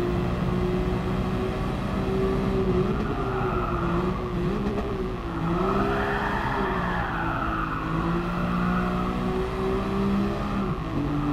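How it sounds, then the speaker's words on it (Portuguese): Twin-turbo 2.6-litre inline-six of a Nissan Skyline GT-R R34 in GT Sport, heard from the cockpit: a steady, loud engine drone that rises and falls through gear changes, with faint tyre squeal over about eleven seconds and no talk. "Vamos ouvir o 6 bloco biturbo. 6 cilindros em linha biturbo."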